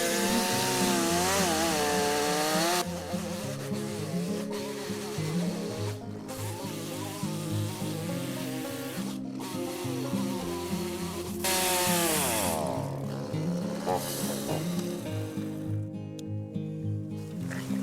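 A chainsaw roars while cutting into a gum tree holding an old bee hive, its pitch swooping up and down as it bites. Bees buzz around it, and the motor sputters and drops out toward the end.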